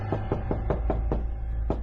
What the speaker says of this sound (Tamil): யாரு கதவு தட்டுறது?